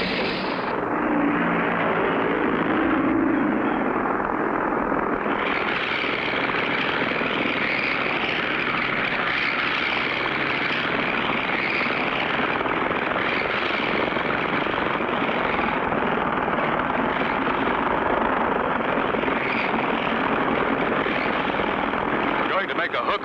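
Propeller plane engine in the 1959 animated series Clutch Cargo, a loud, continuous droning roar that holds steady throughout and dominates the scene.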